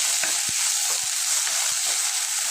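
Ginger fries in oil with panch phoron spices and gives a constant, moderate hiss, with a few soft thumps and scrapes of a spoon stirring underneath and no speech.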